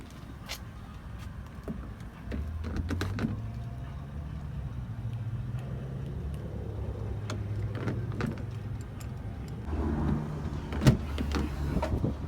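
Power running boards on a lifted 2015 Ram 2500 Longhorn motoring out with a low electric whine that rises and holds, plus scattered clicks and a door thunk, then a second whir near the end.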